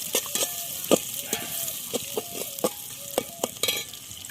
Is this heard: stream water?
no